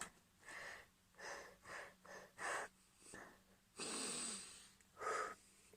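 Heavy breathing through a folded fabric face mask: a series of short, close, muffled breaths in an uneven rhythm, with a longer rough exhale near the end, and no talking.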